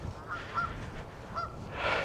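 Geese honk outdoors in Oxfordshire, a few short nasal calls at moderate distance spread across a low background of wind and ambient noise, with no one talking.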